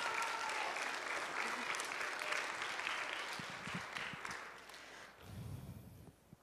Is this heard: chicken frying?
no